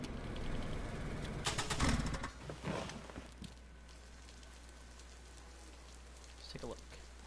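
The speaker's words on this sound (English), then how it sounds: "Daytime almost, and it's raining." Rain falls in the video game DayZ, a soft patter with a faint engine-like rumble underneath; it is louder at first, then thins to a quiet steady hiss, with a voice speaking briefly partway through.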